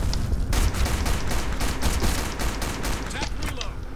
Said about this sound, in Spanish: Vacío un cargador ahí del tirón.